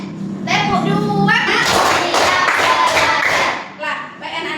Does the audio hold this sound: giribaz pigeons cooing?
no